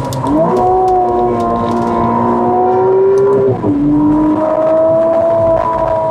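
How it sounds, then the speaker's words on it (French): A 2024 McLaren Artura Spider's twin-turbo V6 drones loudly as it accelerates, its tone rising through a gear, a brief dip at the shift, then climbing again. "je ne m'attendais pas à ce que le moteur soit aussi sonore. Il s'agit en fait d'un V6 biturbo"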